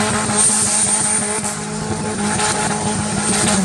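Turbocharged race car engine at the Rocha track in Fazenda Rio Grande, revving hard and loud up close with a steady high whine over a rough, crackling roar that stays constant throughout.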